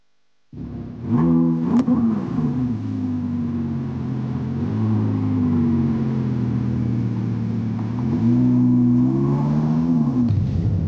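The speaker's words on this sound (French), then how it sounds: "Très bruyant, vous allez voir, et on va l'essayer tout de suite." An Audi R8 V10 Performance RWD with a 5.2-litre V10 starts up and revs loudly, its pitch climbing and falling through several strong sweeps before settling into a steady, droning idle and revving again near the end.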